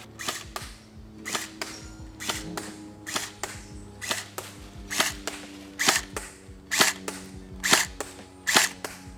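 Airsoft HK416 AEG rifle firing ten single shots at an outdoor target, each a sharp, close, snappy crack with a mechanical clack, spaced about a second apart and evenly paced.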